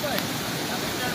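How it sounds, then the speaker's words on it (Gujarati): Fast-moving floodwater rushing past during heavy rain in Gujarat, a continuous close, dense roar of flowing water filling the brief moment. "આ પાણીની સ્પીડ આપ જોઈ શકો છો। આ બધું પાણી આમ જાય છે।"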